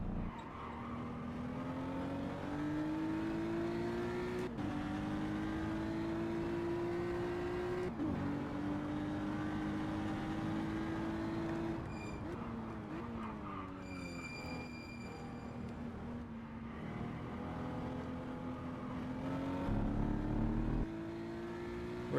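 BMW M235 race cars on the last lap at the Nürburgring GP circuit. An engine revs loudly and steadily, rising through repeated gear changes with brief shifts and a short tire squeal, and no one speaks.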